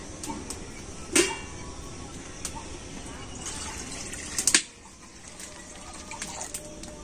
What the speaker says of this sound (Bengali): আর এবার আমি কড়াতে দিয়ে দেব জল।